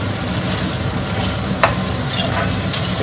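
Diced onions, capsicum and green chilli fry in oil in a pan for chilli chicken, a loud, close, continuous sizzle with two sharp spatula knocks and no talking.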